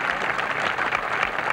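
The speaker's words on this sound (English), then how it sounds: "Brings warm applause from the gallery." A golf gallery on the 18th hole at the 1978 U.S. Women's Open gives warm, sustained applause after an approach shot. The clapping is fairly loud and even throughout, heard from a short distance.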